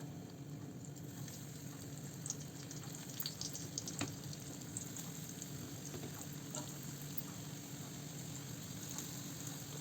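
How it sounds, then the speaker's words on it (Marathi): Banana slices fry in hot oil on a tawa, giving a faint, continuous low sizzle with a steady hum underneath and occasional tiny crackles, quiet and even throughout. "तव्यामध्ये तेल ओतलं आहे. तेल तापलं आहे आपलं. त्याच्यावर केळ्याची कापं सोडून घेऊया."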